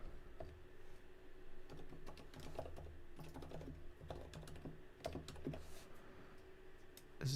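Code being typed on a computer keyboard, rapid irregular key clicks in bursts, close and moderately quiet over a faint steady hum, with no voice.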